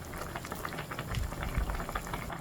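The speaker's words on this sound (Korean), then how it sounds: "이제 조금만 더 끓이다가 마무리하면 될 것 같아요" A pot of kimchi jjigae (kimchi stew) boils steadily, with dense bubbling and popping throughout and a few deeper gurgles near the middle, close and fairly quiet.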